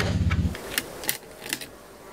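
Plastic clicks and snaps from an HP 15-n308tx laptop keyboard being pried off its case, a few sharp separate cracks spaced across a low rumbling start, close and moderately loud.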